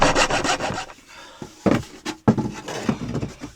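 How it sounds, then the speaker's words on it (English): A small hand saw cuts through wood in quick, rasping back-and-forth strokes, close and fairly loud, pausing briefly before starting again in short bursts. "So I bought a little saw so I can just do these small little cuts."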